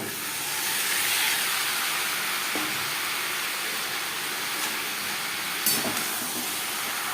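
Grated coconut fries in a pan over a low-to-medium flame, a steady soft sizzling hiss throughout with a couple of faint clinks.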